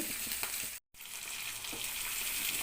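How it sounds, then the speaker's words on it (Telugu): Cauliflower pieces softening in hot oil give a faint, steady sizzle and crackle, briefly cut by a short silent gap, with no voices. "వీటిని ఇలా ఆయిల్లో మగ్గించుకోవాలండి"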